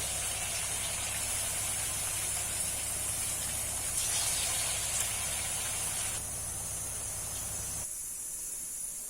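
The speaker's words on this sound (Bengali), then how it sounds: "এবার আমি গোল গোল করে বড়াগুলো ভেজে নেব" Chhana (cottage cheese) balls frying in hot oil, a dense, steady hiss and crackle that drops sharply in level about two-thirds of the way through and fades to quieter noise at the end.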